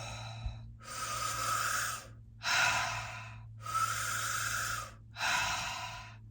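Circular breathing demonstration through the mouth: four long, steady airy breaths in and out, each lasting about a second and a half with short pauses between, close and clear with no talking.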